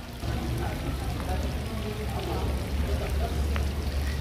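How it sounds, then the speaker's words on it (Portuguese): Rain falls steadily at a large park in Belém, a constant hissing patter on surfaces that continues unbroken throughout, with low background murmur. "Pena que tá chovendo, mas é um lugar imenso."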